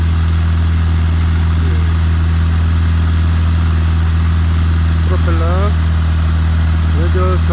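A two-seat light aircraft's propeller engine gives a steady, loud low drone with a constant hum, overlaid by a few faint wavering tones, holding unchanged throughout.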